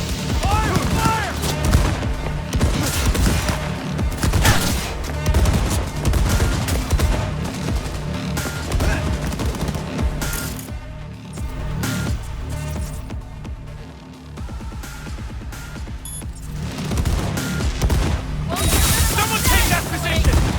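Dense gunfire rattles through a Cyberpunk 2077 firefight, continuous loud bursts and booms layered over chaotic combat noise for the whole stretch.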